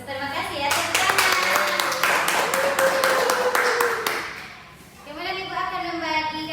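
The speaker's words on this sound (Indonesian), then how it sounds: "Tepuk tangan." Class of ninth-grade pupils clapping together in a classroom, with a brisk burst of many small hands lasting a few seconds, framed by a teacher's voice before and after.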